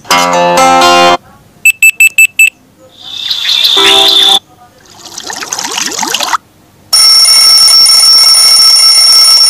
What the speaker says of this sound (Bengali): এই ডিফল্ট অ্যালার্ম সাউন্ডে টাচ করে দিব।